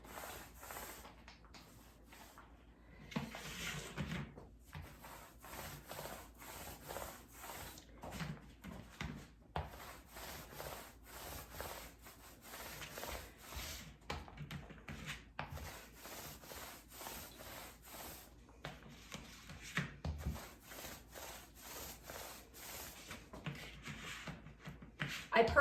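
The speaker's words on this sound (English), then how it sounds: "I personally like the foam roller on the flat surfaces." A foam roller spreads Wise Owl One Hour Enamel paint across a flat surface, giving soft, faint repeated rubbing strokes in an uneven back-and-forth rhythm.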